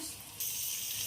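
A small splash of water poured into a pan of ginger-garlic paste, chilli, coriander and cumin powders while cooking Bhola fish curry, a steady hissing pour that swells after a brief quieter start.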